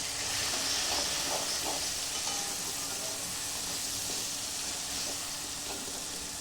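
Red chilli powder, turmeric and salt fry in hot oil for a spring onion dish, a steady close hiss and sizzle with faint stirring scrapes running throughout, no voices.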